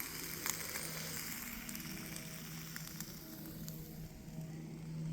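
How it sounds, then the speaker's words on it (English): Bacon sizzles and crackles steadily in a frying pan at a woodland camp, making a close, continuous hiss with scattered small pops. "I've just thrown all the bacon in"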